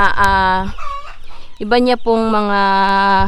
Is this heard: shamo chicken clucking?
yes